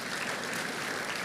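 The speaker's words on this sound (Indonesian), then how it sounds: "Ya boleh tepuk tangan bagian kiri" Left side of a church congregation clapping during a sermon, a steady dense wash of many hands applauding together, moderately loud and continuous with no talk over it.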